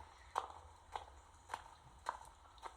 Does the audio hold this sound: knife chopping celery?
no